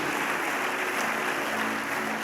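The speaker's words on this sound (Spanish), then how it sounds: "Dale un fuerte aplauso al Señor" A church congregation breaks into loud, sustained applause, a dense, even wash of clapping from many hands that holds steady without pause.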